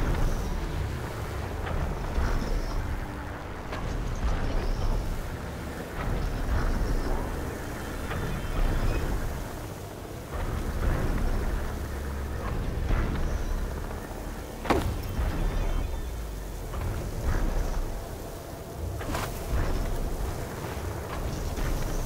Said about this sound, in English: There's the generator.